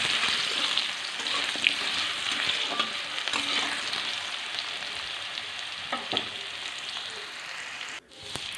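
Potatoes and egg frying in a pan with turmeric and salt: a steady, close sizzling hiss with scattered stirring scrapes and a short break near the end.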